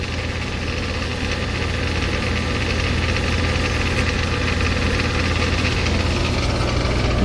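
A 1994 DeLonghi 40 pint dehumidifier runs close by with a steady, even mechanical hum and fan whir, unchanging throughout with no talking.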